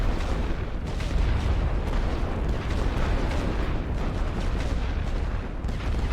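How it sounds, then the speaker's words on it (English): A light artillery strike lands in The Great War: Western Front, a dense, continuous rumble of overlapping booms rolling on without pause for the whole stretch. "let's just use this other light artillery strike"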